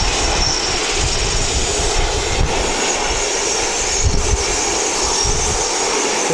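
An airplane lands at Wellington Airport, its engines producing a loud, steady roar with broad rumbling noise throughout, heard from nearby.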